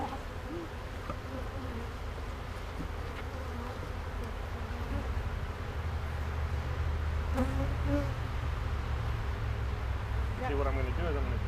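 Honey bees buzz in a steady, dense drone around a hive where comb pieces are being fitted into frames, continuous and fairly close throughout with some faint background noise.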